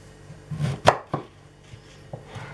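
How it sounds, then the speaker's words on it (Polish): Knife dicing vegetables such as leek, celery and carrot on a cutting board, a few close, sharp chopping knocks in uneven rhythm with quiet pauses between. "tym czasie pokroimy w kostkę pozostałe warzywa"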